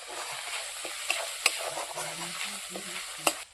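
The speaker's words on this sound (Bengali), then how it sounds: "জিরে গুঁড়ো, ধনে গুঁড়ো, কাশ্মীরি লঙ্কা গুঁড়ো, একটু নেড়ে নেব।" Ground cumin, coriander and Kashmiri chilli powder being stirred in hot oil in a pan: a close, steady sizzle with scraping spatula strokes and a few sharp clinks against the metal, no voices.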